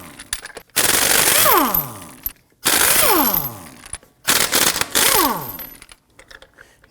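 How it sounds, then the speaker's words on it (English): An impact wrench with a 19mm socket loosens lug nuts on a Volvo XC90 front wheel: three loud, close rattling bursts, each winding down in pitch, separated by brief pauses. "Using a 19mm socket, we're going to loosen and remove our lug nuts."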